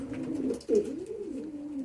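Racing pigeon cooing close by, a soft, low, rolling coo repeated in a short phrase with a brief break in the middle, fairly quiet against faint background noise.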